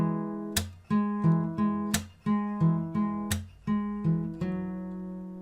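Fingerstyle acoustic guitar playing a song, ringing open strings punctuated by sharp percussive body slaps in a steady rhythm, close and clear with no talking.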